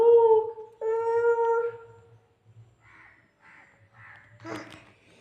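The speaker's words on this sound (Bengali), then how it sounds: "কাক।" A crow caws twice in long, drawn-out calls, fairly close and clear, followed by faint scattered calls and a brief burst of noise.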